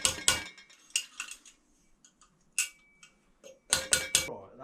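A dirt bike fork bush being tapped into place, sharp metallic taps in uneven clusters with quiet pauses between them, close by and without talk.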